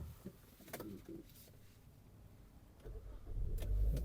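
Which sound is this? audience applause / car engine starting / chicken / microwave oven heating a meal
car engine starting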